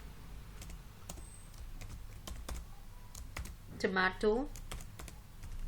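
Keys clatter on a computer keyboard in scattered, quick taps with short gaps, and a person speaks briefly over the clicking partway through.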